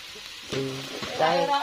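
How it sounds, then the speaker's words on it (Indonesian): Chicken frying in a pan sizzles with a soft hiss while it is stirred, in a short burst under brief voices nearby. "Iki pitike diwarok wae no."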